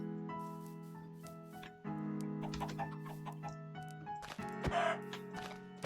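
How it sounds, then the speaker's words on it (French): Chickens cluck repeatedly in the Minecraft video game, short blocky clucks scattered over steady layered background music, with a brief thump and a busier cluster of game sounds near the end. "Putain, mais c'est qu'il y en a des poules ici."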